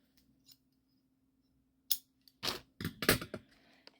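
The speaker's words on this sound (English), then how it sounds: "I line it up and then I cut it at the end." Scissors snipping string while a bag charm is made, quiet isolated clicks followed by a quick cluster of crisp cuts, close up with no talk.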